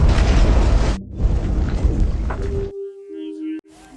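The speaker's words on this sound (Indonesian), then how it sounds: "Tiba-tiba bom meledak dan menewaskan banyak orang termasuk putrinya." A bomb explosion in London: a loud, roaring blast rumbles with heavy low-end noise and breaks off abruptly, followed by quieter tonal sounds and a sharp click.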